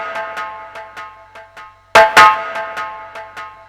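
A processed snare drum, struck in repeated hits spaced about a third of a second apart, each with a long reverb tail and delay echoes, and a louder doubled burst in the middle, all alone without voices.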